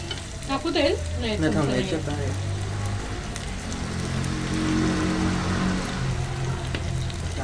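Prawns sizzling in a pan after being flipped to the second side for a Kolambi fry, a strong continuous crackle with scraping stir noises early on, close and steady.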